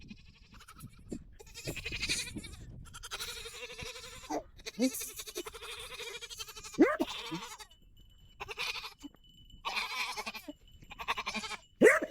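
Goats bleating at a goat fence on a small farm during morning chores, several loud wavering calls in separate bursts with quiet gaps between, close to the listener and no talk over them.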